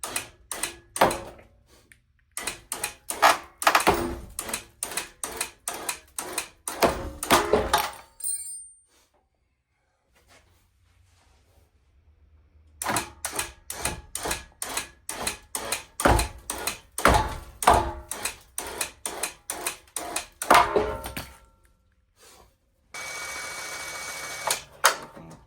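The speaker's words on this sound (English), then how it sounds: "we're gonna attempt to winch this thing from a distance" A winch operated from a distance pulls a 4.6 V8 engine out of a donor Mustang, giving bursts of fast rhythmic ratcheting clicks separated by quiet pauses, with a low hum near the end.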